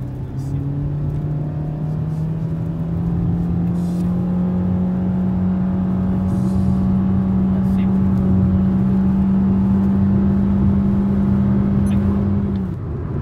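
A Suzuki Swift with a 1.2-litre engine, Thai-spec, accelerates hard on a test drive. The engine drone rises slowly and steadily for about twelve seconds and stays loud and close before cutting off.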